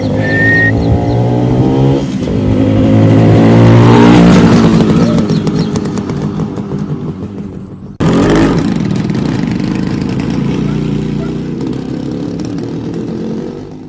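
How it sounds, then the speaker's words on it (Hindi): A motorcycle ride on a farmhouse property, the engine droning and revving loudly up close, with a gear change or cut partway through before the motor pulls steadily again. "जीवा अपने पापा की बाइक पर सैर कर रही हैं।"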